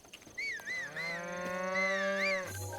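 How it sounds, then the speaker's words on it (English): Cows mooing on a farm in the video game The Legend of Zelda: Breath of the Wild, a long, clear, loud low-pitched moo that rises and falls, with a second moo beginning at the end. "I hear the cows."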